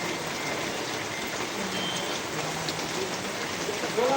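Steady rain falls in a dense, even hiss, close and unbroken throughout, with faint voices barely audible beneath it.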